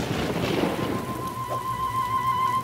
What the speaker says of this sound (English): It's raining a lot now.